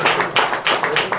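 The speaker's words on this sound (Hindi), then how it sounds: "जोरदार तालियां" Brief burst of audience applause at a ghazal album launch as a singer is called to the stage, a crowd of hands clapping in a dense, uneven patter at close-to-moderate distance.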